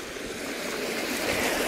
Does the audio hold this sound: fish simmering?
no